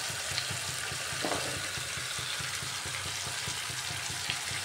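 Chicken sautéing in a covered pan for a lightly spiced Bengali chicken curry, a dense, even sizzle and crackle held close and steady throughout.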